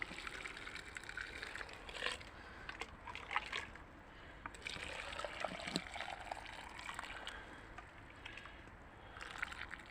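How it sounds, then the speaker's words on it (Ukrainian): Boiling water is poured into a glass jar in uneven spurts, sloshing and trickling, with brief pauses between pours; no one speaks. "Аж до верха наливаємо."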